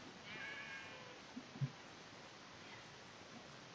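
A cat in a video game gives a couple of short, faint meows over a quiet ambient background.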